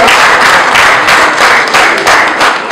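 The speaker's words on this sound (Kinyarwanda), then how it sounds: "ubwo bishimye amashyi menshi cyane kuri Vanessa" Applause and clapping from wedding guests, a dense, steady burst of many hands close by, lasting the whole moment without a pause.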